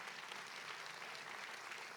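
Church congregation applauding the Lord at a service, a faint, even patter of many hands clapping steadily for two seconds with no voices over it.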